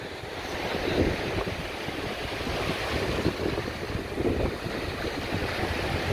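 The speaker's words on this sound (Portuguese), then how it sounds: "dia maravilhoso, dessa praia linda, desse marzão" Ocean waves on the beach at Balneário Camboriú wash in as a steady, full surf roar mixed with gusty wind buffeting the microphone, with no voices over it.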